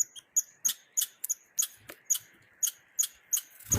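A squirrel chirping outdoors, a series of sharp high squeaky calls repeating at a quick, fairly regular rhythm, close and clear against a quiet background.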